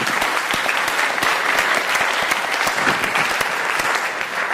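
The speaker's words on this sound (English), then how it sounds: "You all deserve a round of applause." Steady, dense audience applause fills a convening hall, many hands clapping continuously and loudly for several seconds with no talk over it.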